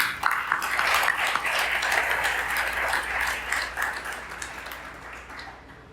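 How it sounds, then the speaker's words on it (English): Warm round of audience applause for small business champions at a June 2024 breakfast briefing, sustained steady clapping that gradually fades out near the end. "So please help me in giving them a warm round of applause."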